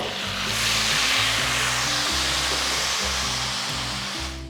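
Ground onion paste dropped into very hot oil for a Tamil onion thokku, giving a loud, steady broadband sizzle and hiss that holds throughout, with a low background hum beneath it.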